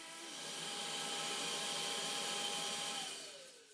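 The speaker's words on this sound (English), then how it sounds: "Lastly, some quick sanding before it's off for paint." Steady whirring hiss of a power sander working over a wooden desk before painting, running continuously at close range for several seconds and winding down at the end, with no talk.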